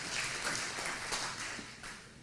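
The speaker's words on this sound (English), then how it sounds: "You can give that a round of applause." Audience applause for Senator Tuberville at a Simplified Sellers Use Tax summit in Alabama, a steady, dense wash of clapping from a mid-sized room that holds level, then thins slightly toward the end.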